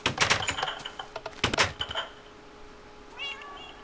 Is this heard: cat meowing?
yes